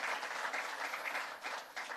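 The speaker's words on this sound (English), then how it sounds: "Would you give him a round of applause?" A crowd at a political breakfast event with Vice President Mike Pence in New Hampshire gives a round of applause, a continuous, faint, distant wash of clapping.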